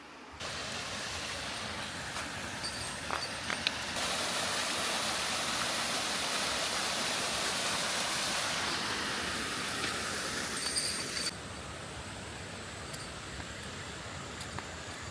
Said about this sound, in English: We're at a place called Nina Waterfall.